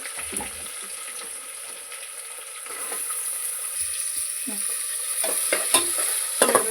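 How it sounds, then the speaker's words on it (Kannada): Onions fry in oil in a pan for a tomato bath, a steady sizzle broken by scraping stirs from a spoon, close and moderately loud with no talking. "ಈರುಳ್ಳಿ ಚೆನ್ನಾಗಿ ಫ್ರೈ ಮಾಡ್ಕೊಂಡು"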